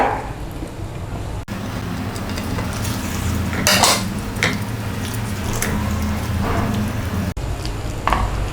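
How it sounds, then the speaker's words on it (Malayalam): Chicken pieces are added to a pan of plain milk for chicken pasta, giving soft stirring, scraping and light clinks of a utensil against the pan, steady and close with no talk. "ഇതിലേക്ക് നമുക്ക് ചിക്കൻ ഇട്ട് കൊടുക്കാം"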